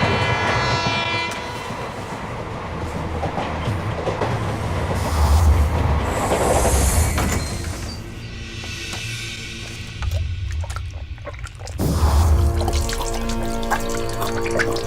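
A train runs along a railway in India, a loud continuous rumble and clatter of wagons with shifting rhythm, rising and easing over about fifteen seconds.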